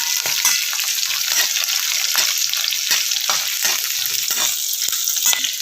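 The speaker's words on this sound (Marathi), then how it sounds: "त्याच्यामध्ये मिरच्या पण टाकून घेते थोड्या याला व्यवस्थित चांगलं भाजून घ्यायचं आहे" Green chillies roasting in hot oil in a pan for mirchi thecha, a loud, constant frying hiss close up, broken by frequent quick stirring scrapes and crackles.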